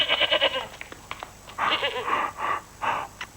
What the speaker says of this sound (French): Sa chèvre.